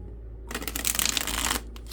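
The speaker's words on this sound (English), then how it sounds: "That's a nice shuffle." A tarot card deck is riffled in a single quick, close shuffle lasting about a second, a dense papery flutter that stops abruptly, with a faint low hum underneath and no talk.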